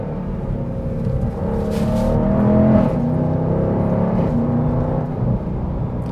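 2024 Dodge Durango SRT 392 V8 pulls hard from inside the cabin, its rumbling note rising and then cutting quickly at each snappy gearshift, several shifts in a row, loud and close.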